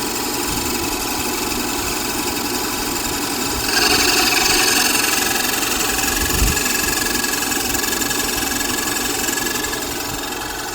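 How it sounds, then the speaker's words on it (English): A car's serpentine drive belt and pulleys running at idle after the ribbed side of the belt is sprayed with water, giving a steady engine drone with a rougher, louder squealing rasp partway through and a brief thump. "I'm getting some extra noises once the rib side of that belt gets wet"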